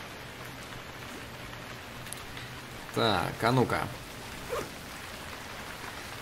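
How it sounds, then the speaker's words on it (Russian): Heavy rain pours steadily as a broad, even hiss in the video game Stranded Deep, with someone speaking briefly over it partway through. "Какой ливень просто валит."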